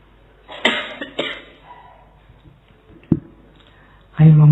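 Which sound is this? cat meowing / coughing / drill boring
coughing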